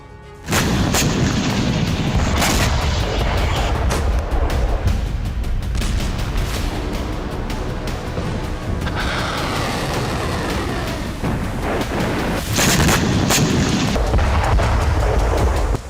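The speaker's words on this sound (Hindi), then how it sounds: "आयरन डोम ने मिसाइलों को उड़ाकर हमला नाकाम कर दिया।" Iron Dome interceptions of incoming missiles produce a dense barrage of loud booms and explosions that roll on continuously, with sharper blasts standing out from a heavy rumbling wash.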